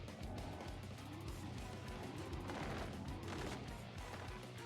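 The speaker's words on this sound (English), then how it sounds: "I was getting quite annoyed by the sound of cannons outside anyway." Rapid cannon fire from the video game Paper Mario: The Thousand-Year Door, a dense continuous barrage of booms and blasts with rumbling low end, loud and steady throughout with no speech.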